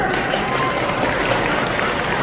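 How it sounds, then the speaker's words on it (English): Audience at a community event applauds an executive director, a continuous dense patter of many hands clapping at even loudness throughout. "Please give a round of applause to Executive Director Sia Her"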